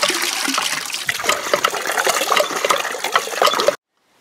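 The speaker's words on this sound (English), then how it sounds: "The old pump works like it's brand new." An antique hand pump on a freshly driven 18-foot well at a remote off-grid property gushes water in a steady, loud, close splashing stream for nearly four seconds, then stops abruptly into silence.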